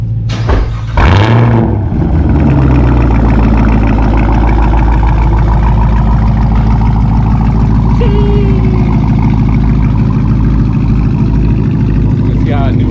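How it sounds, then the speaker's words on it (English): A Chevrolet Camaro ZL1 with an AWE Track exhaust, straight-piped, idles with a loud, steady low rumble throughout, close to the microphone, after a brief rev burst near the start; voices talk faintly under the engine. "You finally hear the exhaust on."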